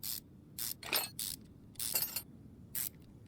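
Long engine bolts come off near the crankshaft pulley in Car Mechanic Simulator 2021, heard as five quick, crisp bursts of ratchet clicking separated by short pauses.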